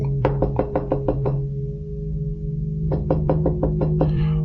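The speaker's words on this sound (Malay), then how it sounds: "aku dengar orang ketuk bilik pintu aku dengan laju" Rapid knocking on a bedroom door: two bursts of about six quick, sharp knocks each, separated by a pause, loud and close over a low steady hum.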